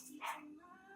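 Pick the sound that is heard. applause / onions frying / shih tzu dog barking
shih tzu dog barking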